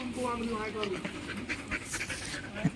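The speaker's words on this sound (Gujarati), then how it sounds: "સાથે કૂતરું મસ્તી કરવા લાગ્યું છે," A playful puppy pants in quick, rhythmic breaths close by, with faint chatter and outdoor background noise around it.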